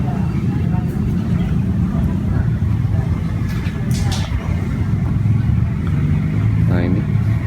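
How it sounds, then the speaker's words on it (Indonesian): A 1994 BMW 530i V8 automatic idles with a steady low rumble that runs through the whole clip, close and loud. Someone talks over it, and there is a faint rising whine near the end. "ini BMW 530i V8 tahun 94 otomatis"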